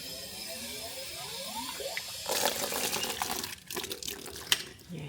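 Water runs and splashes into a dish for a kitten on a farm in winter, starting after a quiet stretch and continuing as a steady trickle with a few knocks, fairly faint and without talk.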